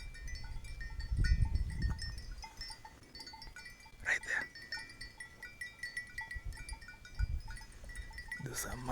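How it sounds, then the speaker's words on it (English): Maasai goats and sheep bleat intermittently near a sacred place, with a few scattered calls at moderate distance amid outdoor ambience, while a person briefly speaks. "Those are Maasai goats and sheep."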